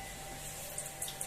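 Well water running from a tap into an RO machine, a steady soft hiss of flowing water with a few faint drips near the end, no voices.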